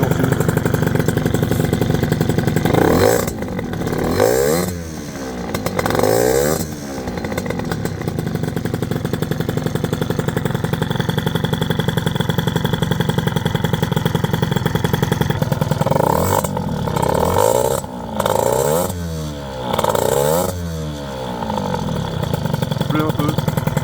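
A freshly rebuilt motorcycle engine runs loud and close, idling with a rough, steady putter and rising into several revs in two bursts, while someone speaks French over it.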